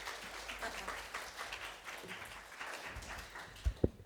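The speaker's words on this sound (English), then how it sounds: "Let's give him a round of applause, please." Faint audience applause welcoming a speaker at a conference talk, a soft continuous patter of clapping heard from a distance, fading out, with a couple of sharp thumps near the end.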